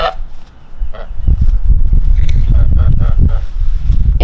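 Loud, close goose honks and hisses amid rustling and wind-like noise, with agitated bird calls throughout.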